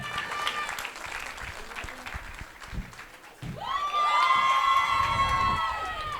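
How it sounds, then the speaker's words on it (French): Audience at a dance gala applauds and cheers for Jérémy, a dense crowd clapping that swells louder midway, with shouts and a sustained tonal whistle-like sound over it. "un max d'applaudissements aussi pour lui"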